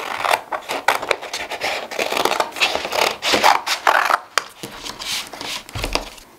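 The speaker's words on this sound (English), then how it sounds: "I'll use my scissors." Scissors snip through paper to cut out cartoon number-block stickers, a run of close, crisp cutting and rustling strokes with short pauses between them.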